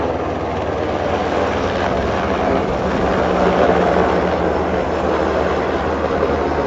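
Steady, loud, unbroken roar of a helicopter flying over a harbor at night, a broad rumbling drone that holds level throughout with no voices.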